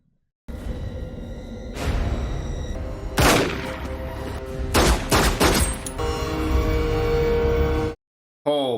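Gunshots ring out in the 1995 film Se7en as a rapid cluster of sharp, loud cracks amid tense, noisy background, with several close bursts in succession before an abrupt cutoff.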